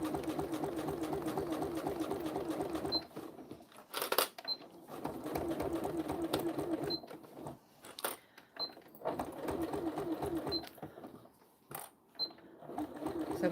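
Sewing machine stitching a zippered vinyl pouch, running in steady rapid bursts with brief pauses between seams, close and fairly quiet.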